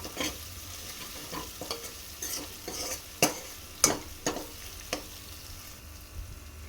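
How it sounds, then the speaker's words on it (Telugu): Turmeric stirred into ridge gourd and mutton curry in a pan brings a quiet sizzle and irregular spoon scrapes and taps against the metal, several of them distinct and close. "అర టీ స్పూన్ పసుపు వేసి ఒకసారి మొత్తాన్ని కలిపేసేయాలి."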